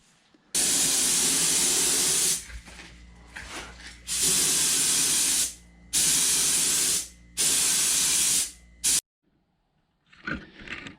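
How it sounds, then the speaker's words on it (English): Spray gun laying epoxy primer on a car panel, four long loud hissing passes separated by short pauses, then quiet with faint handling noise at the end. "hit this with some epoxy primer"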